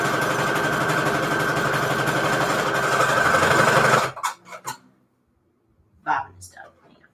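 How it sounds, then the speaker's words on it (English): Sewing machine stitching down the middle of a scrap fabric strip, a steady loud mechanical whir running continuously for about four seconds before stopping, followed by brief quieter handling clicks and rustles. "I'm just sewing down the middle at first."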